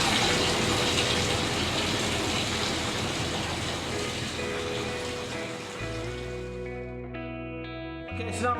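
Tap water gushes steadily into a pot being filled for braising pork belly, a loud continuous rush that cuts off near the end, leaving a brief ringing hum alone.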